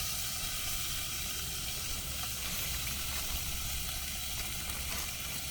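Bacon frying outdoors by the sea for breakfast, a steady dense sizzle and hiss that holds constant throughout with no talking over it.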